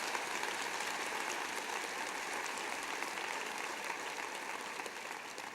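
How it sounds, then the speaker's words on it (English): An audience at an International Women's Day celebration claps in a dense, steady wash of applause that slowly fades toward the end. "So maybe just one more round of applause."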